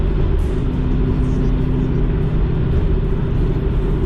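Ford Mustang engine pulling under acceleration, a loud, steady low rumble with mid-range growl filling the whole stretch, close and continuous with no voices.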